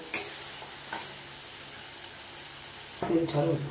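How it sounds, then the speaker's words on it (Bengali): Cashew, melon seed and poppy seed paste added to yogurt masala and sautéed in a pan: a low sizzle with a few scraping stirs, then a louder burst of frying near the end. "এবারে দিয়ে দেবো এই যে কাজুর পেস্ট, কাজু, চালমগজ আর পোস্ত। এটা দিয়েও একটু কষে নেব"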